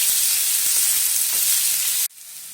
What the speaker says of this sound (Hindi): प्याज का कलर चेंज होने तक हम उसे भून लेंगे